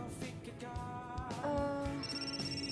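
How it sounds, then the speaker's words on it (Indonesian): A telephone rings unanswered indoors, a steady repeating electronic ring pattern with warbling tones, fairly loud and close, with no voices. "Gue nggak mungkin angkat telepon Vino di depan lo, Dirli."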